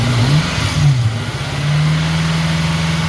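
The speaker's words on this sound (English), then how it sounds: "Just give me just a partial rev and hold it." A 2013 BMW M5 engine rises in a partial rev and then holds at a raised, steady drone, loud and close, with no talking.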